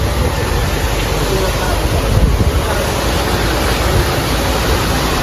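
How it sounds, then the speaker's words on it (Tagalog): Kilometer 12 Falls waterfall in Infanta, Quezon, a loud, continuous broadband roar of rushing, crashing water close by, with a little wind buffeting and no pauses. "Ayan guys, dito kami sa kilometer 12 falls"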